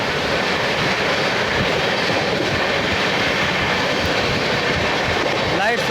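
Indian Railways train noise on the Gaya–Delhi Amrit Bharat Express as it runs through Barthana station at speed, a loud, steady broadband rumble with wheel clatter throughout and a brief squeal near the end.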